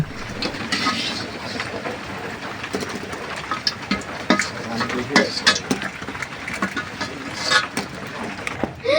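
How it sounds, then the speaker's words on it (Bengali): Fuchka puri shells frying one after another in hot oil at an outdoor village cooking spot on a rainy day, giving a steady crackling sizzle with clattering stirring and scraping noises close by. "আমরা দেখতে পাচ্ছি একের পর এক ফুচকাগুলো ভাজা হচ্ছে"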